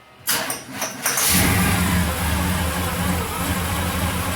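A 1994 Chevy Silverado fitted with a 400 cubic inch engine cranks briefly, then fires and settles into a loud, steady, close-up idle rumble with no talking.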